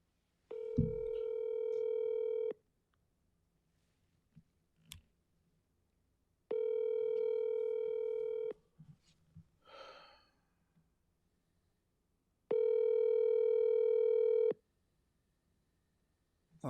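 A telephone call in progress: three long, steady electronic ringing tones, each about two seconds with pauses between, and soft breathing and small rustles in the gaps.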